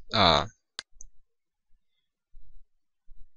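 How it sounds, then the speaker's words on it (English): Sparse, crisp mouse clicks on a rotate button in CAD assembly software sound close and isolated in a quiet room, preceded by a brief breathy vocal sound. "Click on the rotate button."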